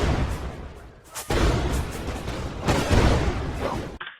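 Booming cannon blasts from a UE4 game demo, a series of loud, heavy reports with rumbling decay filling the stretch, ending in an abrupt cutoff.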